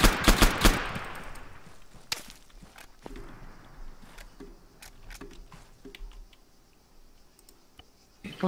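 Gunfire in the video game Arma 3: a quick cluster of sharp shots opens, then scattered single cracks and clicks over background noise, with another burst at the end.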